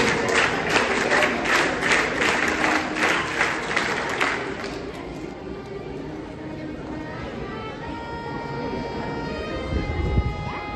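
Students at a school investiture ceremony do a scout clap, a loud rhythmic series of sharp unison claps for about five seconds, then a crowd murmur with a faint tone continuing.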